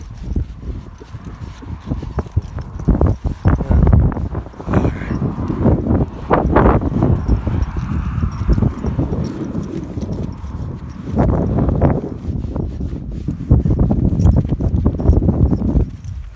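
Hooves of a Tennessee walking horse ridden bareback on a trail, an uneven run of soft clip-clops and scuffs in open air, fairly loud and close, with wind and a few brief spoken moments.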